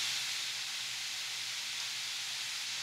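Italian sausage meat browning in a pan makes a steady, even hiss of sizzling fat, close and unbroken, with no talk.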